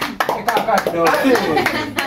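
An audience clapping at a birthday surprise gathering, quick scattered handclaps mixed with loud cheering voices and chatter close by.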